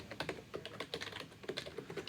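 Fingers type quickly on a computer keyboard while code is entered, a close run of light irregular clicks and taps with no talking.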